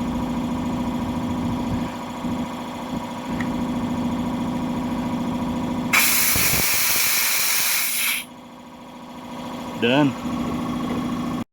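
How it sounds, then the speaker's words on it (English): Compressed air hisses loudly out of an opened bleeder screw on a sprinkler system valve during a blowout, a steady two-second blast that stops sharply. A constant engine-like hum of the compressor runs underneath, and a voice speaks briefly afterward. "Take this screw with the air pressure on, open it up, and close it"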